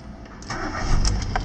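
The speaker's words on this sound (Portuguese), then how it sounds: "Vamos ligar ele aqui para vocês." A 2012 Ford Fiesta Class with a 1.6 8v flex-fuel engine cranks briefly, then catches and settles into a loud, close idle.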